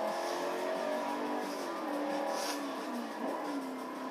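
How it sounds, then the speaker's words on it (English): A Ferrari races past against a Chevy Corvette in a faint, distant, steady engine drone with shifting revving tones and a slight swell in the middle, no speech. "Yep, that's a Ferrari."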